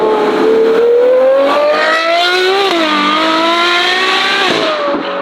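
A loud, high-revving Novitec Ferrari 812 GTS N-Largo S naturally aspirated V12 screams close by, its pitch climbing and dipping through gear changes.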